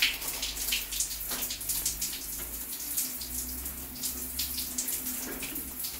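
Water runs from a Lorenzetti turbo electric shower with a steady, close splashing hiss that continues the whole time, over a low constant hum.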